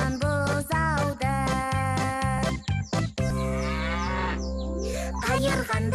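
A calf moos in a children's cartoon, loud drawn-out bovine lowing calls repeated several times with bright harmonics, close and clear, with brief musical or voiced bits between them.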